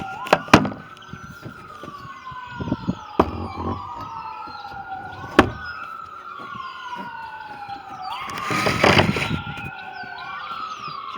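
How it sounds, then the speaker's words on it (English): An ambulance siren wails in repeated rising and falling sweeps, passing close by near a fire station and ambulance station, with a few sharp knocks and a louder burst of noise partway through. "Just an ambulance alarm."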